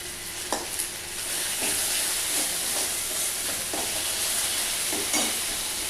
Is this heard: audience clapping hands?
no